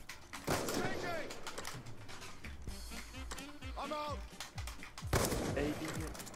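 Video game gunshots ring out during a trickshot attempt, with several sharp cracks among a flurry of quick clicks and clatter. Voices and game chatter run underneath the whole time.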